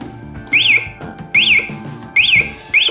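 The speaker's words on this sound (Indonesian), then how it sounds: "makanya kalau digetarkan alarm akan nyala" Shaken while locked, a motorcycle security alarm loops a loud electronic siren tone, four quick up-and-down whoops repeating roughly every 0.8 seconds, close and alone.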